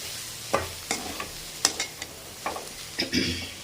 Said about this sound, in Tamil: தேங்காவையும் நான் போட்டேன் இது நல்லா நல்லா அப்படி கிளறுவோம்